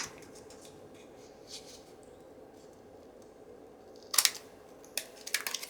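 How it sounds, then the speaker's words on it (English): Quiet room tone, then a few sharp, crisp snips of scissors cutting paper near the end, close and brief. "I'll go in this way and cut it. Cut along the edge. I can get my scissors in here."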